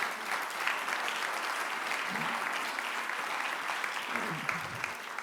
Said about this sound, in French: pouvez applaudir.